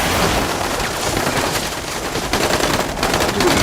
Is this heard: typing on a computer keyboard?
no